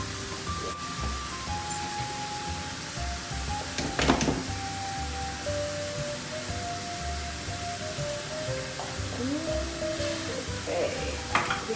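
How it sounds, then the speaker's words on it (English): Tomato puree added to melted butter for a creamy parmesan pasta sauce: an even, low sizzle with an occasional stir or clink, under background music. "I'm gonna go ahead and add my puree to the butter mix right here"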